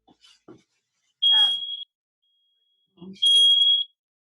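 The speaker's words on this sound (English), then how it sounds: "Hold on, that was my fire alarm." Two loud, high-pitched smoke alarm beeps, separated by a short pause, with brief faint rustling before them.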